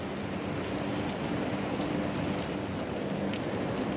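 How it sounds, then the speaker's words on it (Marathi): Continuous rain falls in Mumbai, a dense, even hiss of drops striking surfaces that holds steady and fairly loud for the whole stretch, with no voices over it. "दादर, लोअर परळ आणि सायनमध्ये पावसाची संततधार सुरू आहे."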